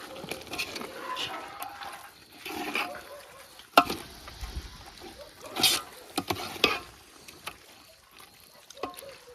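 Boiled toor beans being stirred into a masala gravy, wet squelching and scraping strokes with a few sharper clanks against the pot, close and fairly loud.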